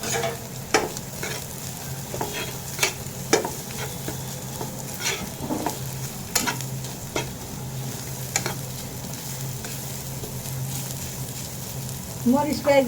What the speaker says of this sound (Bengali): একটু নারকেল দিয়ে দিলাম এর সাথে নারকেলটুকু একটু ভেজে নেই মরিচ পেঁয়াজের